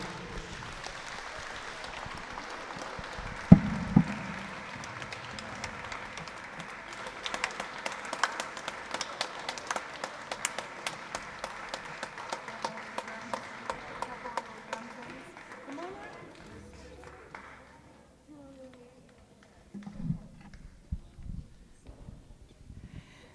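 Audience at an Honor Day ceremony applauds students, a long spell of crowd clapping that begins with a sharp thump, then thins into scattered individual claps, with some talk in the room.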